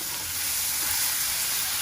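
Onions frying in a pot for Sylheti nakul biryani, a steady dense sizzle and hiss that fills the whole moment without pause, close by and fairly loud.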